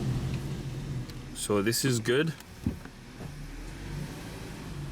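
A VW Passat being repaired for a check engine light is driven back and forth inside a repair shop. A brief engine rise swells midway, and someone speaks briefly over the low idle hum.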